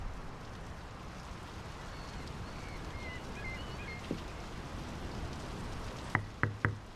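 Steady rain falls in the Draugen video game, a dense even hiss running throughout, with a faint thump midway and a few sharp knocks near the end.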